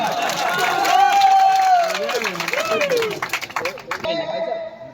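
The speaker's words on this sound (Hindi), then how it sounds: "एक बार जोरदार ताली बजाओ" A crowd claps and cheers loudly while a voice carries over the noise, the applause thinning out toward the end, at a bhajan competition prize distribution in Abdullaganj.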